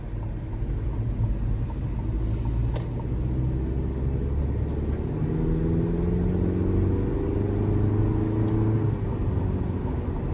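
A 2023 Chevy Colorado Trail Boss pickup with a 2.7-liter turbocharged four-cylinder drives along, a steady low engine rumble heard from inside the cab with gear-like pitch rises as it accelerates.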